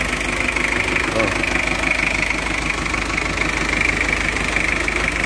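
A 2011 used car engine, recently rebuilt, idles steadily nearby with a smooth, even hum and a faint mechanical ticking running underneath.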